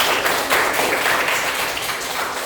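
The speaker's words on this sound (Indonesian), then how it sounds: "Tepuk tangan buat Akis Tuwo." Students in a classroom clap for a classmate, a lively burst of many hands, fairly loud and close, with uneven surges in the rhythm and no speech.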